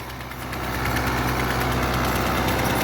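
A 2019 New Holland Al-Ghazi 640 75 hp tractor engine idles steadily nearby, a continuous low rumble with a mechanical knock that grows slightly louder after the first half second and then holds even.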